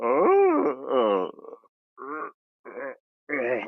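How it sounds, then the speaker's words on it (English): A person gives a loud, drawn-out, exaggerated yawn as part of a vocal warm-up, a long moaning sweep followed by several shorter voiced bursts with brief silences between them. "Bigger stretch yet, and a massive yawn."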